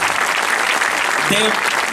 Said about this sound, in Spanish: Un forte aplauso para eles.